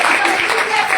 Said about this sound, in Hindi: एक जोड़ा तालियां